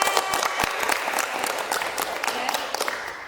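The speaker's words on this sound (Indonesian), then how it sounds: "Tepuk tangan." Applause from an audience at a community gender-awareness family resilience event in Sendangagung village, a steady crackle of many hands clapping for about three seconds, moderately loud and alone.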